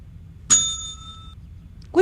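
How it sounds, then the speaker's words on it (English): A single bright ding from a bell in The X-Files video game rings out clearly, its clean metallic tone sustaining for nearly a second over a quiet background, with another faint sound starting just at the end. "What if we ring the bell again?"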